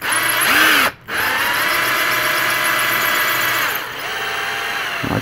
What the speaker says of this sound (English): be careful when you're drilling resin